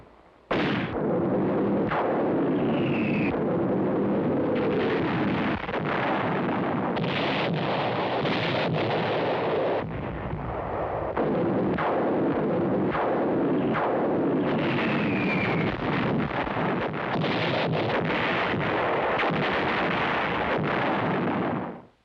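An artillery barrage opens the German offensive toward Antwerp along an 85-mile front in December 1944, a loud continuous roar of overlapping blasts and booms with rapid sharp reports and rumbling explosions throughout, no voices.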